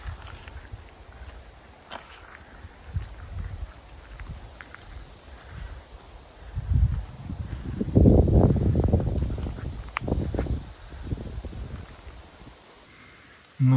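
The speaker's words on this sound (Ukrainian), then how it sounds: "піднявся досить суттєвий вітер" Steady rushing wind in a Carpathian forest with rustling foliage, swelling into stronger gusts midway before easing off, no talking.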